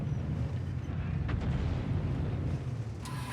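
A Prototipo 6 tank's autoloading gun in World of Tanks, on the Fisherman's Bay map, with a couple of sharp blasts rising out of a steady, loud low rumble of engine and battle noise.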